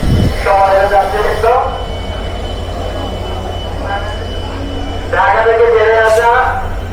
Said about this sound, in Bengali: আপ দ্রুতযান এক্সপ্রেস 6624 লোকোমোটিভ নিয়ে প্রবেশ করলো জয়দেবপুর রেলওয়ে জাংশনের 2 নম্বর প্ল্যাটফর্মের 3 নম্বর লাইনে